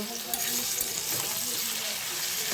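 Flat beans sizzle and crackle steadily in a hot frying pan, a continuous close-up hiss with small pops and a brief stir.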